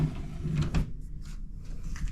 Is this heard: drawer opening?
yes